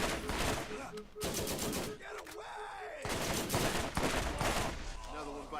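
Machine gun fire in the shooter video game Borderlands: rapid, loud bursts of automatic shots broken by brief pauses, with a voice and game sounds mixed in.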